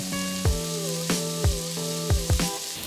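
Prawns frying in a wok, a steady sizzle punctuated by several sharp metallic clanks at regular intervals, with a sustained ringing tone throughout.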